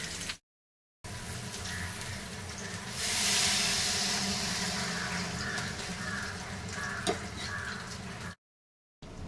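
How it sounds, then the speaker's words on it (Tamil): Tamarind gravy for a sankara fish curry bubbling in a pan, a steady hissing simmer with a soft rising fizz, heard alone and close. "இந்த மாதிரி கொதித்து நல்லா எண்ணெய் பிரிஞ்சு வரையில்"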